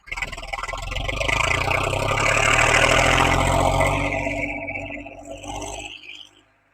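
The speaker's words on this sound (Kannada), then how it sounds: "ಈ ಗಾಡಿ ಮತ್ತೆ ರಿವರ್ಸ್ ಚೆಕ್ ಮಾಡಿಸ್ತೇನೆ" A tractor engine runs while the vehicle reverses, a steady mid-pitched drone that swells, holds, then fades and cuts off near the end.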